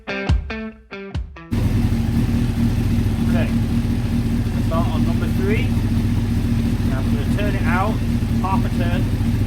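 A Honda CBR600 F3 motorcycle engine idles steadily and evenly during carburettor adjustment, a close, constant drone, after a brief voice at the start and with faint chirping sounds scattered over it.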